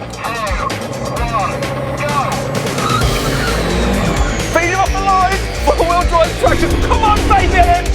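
A Mercedes AMG car at full throttle in a drag race, its engine note climbing through rising gears with loud, steady roaring over several shifts, and an excited voice calling out over the engine noise.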